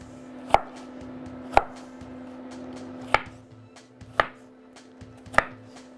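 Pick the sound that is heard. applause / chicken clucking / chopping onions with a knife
chopping onions with a knife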